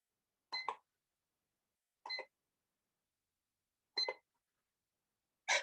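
A kitchen timer gives four short, evenly spaced beeps, each separated by about two seconds of silence, clear and fairly close with nothing else heard.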